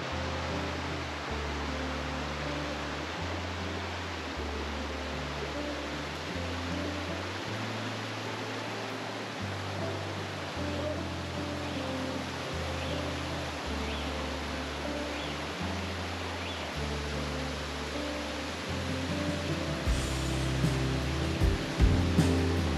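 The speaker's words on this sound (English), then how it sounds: "the heavens have opened and starting to get a little bit wet now" Steady rain falls in a constant broadband hiss on the Atherton Tablelands near Emerald Creek Falls, with a low rumbling underneath and no voices throughout.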